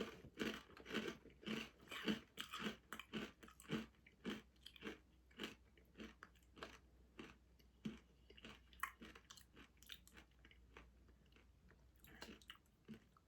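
Someone bites and chews a crunchy tomato and cheese snack close up, giving a quick run of crisp crunches that settles into softer, irregular chewing over several seconds.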